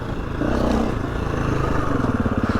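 A motorcycle engine revs up and holds a rough, throbbing note during wheelie practice, loud and close, with a rhythmic pulsing drone and no talking.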